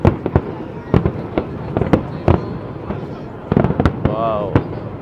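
Fireworks shells burst at the Macau International Fireworks competition, a string of sharp booming explosions spaced irregularly across the clip, with a whistling rocket near the end and a crowd's voices faintly underneath.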